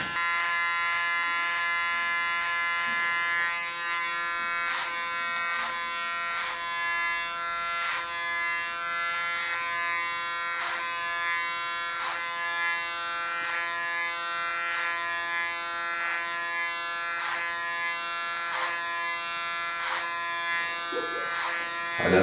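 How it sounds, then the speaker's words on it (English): Electric hair clipper hums with a steady, loud buzz while cutting long hair short, the tone constant throughout with faint rhythmic ticks from the blades working close up. "Even the sound of the clipper is wonderful. It's a dramatic cutter clipper."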